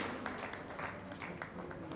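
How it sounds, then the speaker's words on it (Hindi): An audience at a Hindi literary gathering in Karnal, Haryana claps after a poem recital, a moderate ragged patter of many hands sustained for about two seconds, heard from some distance in a hall. "जितनी जोशीली कविता थी उतनी जोशीली तालियां भी बजनी चाहिए एक बार फिर से"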